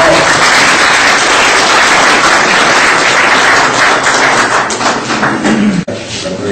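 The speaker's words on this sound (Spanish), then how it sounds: "para quien pedimos un fuerte voto de aplauso, por favor" Applause from the audience at a public ceremony in Matucana, Peru, steady and dense at first and thinning toward the end, with a sharp knock near the close.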